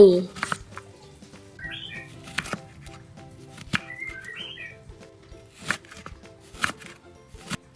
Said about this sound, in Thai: หั่นหอมใหญ่